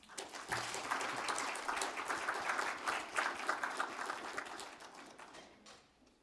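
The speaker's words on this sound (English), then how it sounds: "Let's give them a warm round of applause." Audience applause for health care panelists at a Shoppers Drug Mart event on primary care in Canada, a dense burst of clapping that swells quickly, holds, then thins and fades out at the end.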